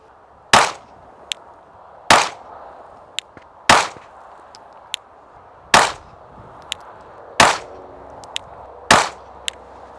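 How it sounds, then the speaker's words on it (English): A Glock 19 pistol fires Remington UMC 115 grain ammunition at 7 yards: six sharp, loud shots spaced about one and a half seconds apart, each followed by a faint metallic ping of ejected brass. "I'm going to shoot 3 shot groups, 2 of those, and we're using Remington UMC 115 grain ammo at 7 yards."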